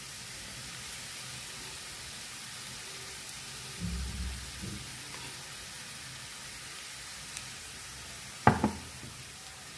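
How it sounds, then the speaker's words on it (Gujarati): Onions sautéing in a pan for a spicy bitter gourd curry give a steady, soft sizzle throughout, broken by a brief stirring rustle and a sharp clatter near the end, with no voices. "આ ડુંગળીને સાતળશું"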